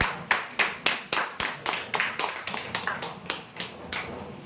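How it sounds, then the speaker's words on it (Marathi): A small audience claps together in a steady rhythm for prize winners at a customer lucky draw: about a dozen crisp, evenly spaced claps that stay close and fairly loud, with no talking. "जोरदार टाळ्या होऊ यांसाठी"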